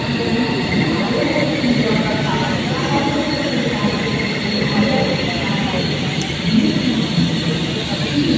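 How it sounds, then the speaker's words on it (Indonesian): Whoosh high-speed train arriving at an Indonesian station bound for Halim, a loud continuous rumble and rolling roar with faint high wheel squeal, steady throughout with no pauses. "Kereta tiba"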